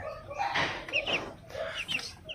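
Young chickens raised on a backyard farm cluck and chirp softly in a few short, uneven calls against a quiet, faintly noisy background.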